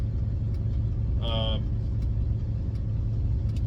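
Steady low rumble of a 1966 Bel Air wagon's engine while driving, a constant mid-loud drone throughout, with a brief high tonal whine partway through.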